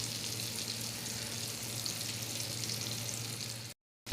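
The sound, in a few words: shipla fish frying in a pan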